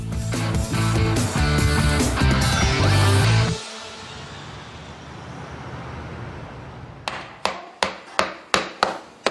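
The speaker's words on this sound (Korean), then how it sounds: "뼈를 망치로 내려치는 작업자" Several sharp hammer blows strike rib bones in a shop making handmade tteok-galbi, evenly spaced close impacts ringing out one after another after a burst of loud music.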